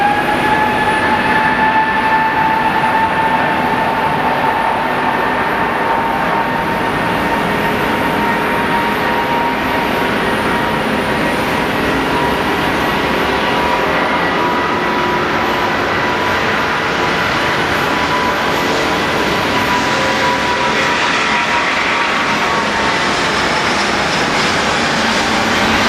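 Air France heavy jet taking off on runway 25 at SJO, a loud continuous engine roar and rumble holding steady throughout, with no voices.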